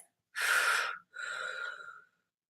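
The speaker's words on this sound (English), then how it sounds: "So you're breathing like this." Two deep diaphragm breaths for singing are demonstrated up close: a sharp, loud inhale followed by a longer, steadier airy exhale, with silence around them and no talking.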